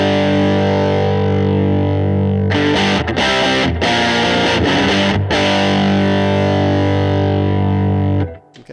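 Loud distorted electric guitar through a high-gain cranked amp model on a Tone Master Pro, bass raised slightly, rings out in sustained chords broken by a burst of choppy, rhythmic picking before fading into a long held chord.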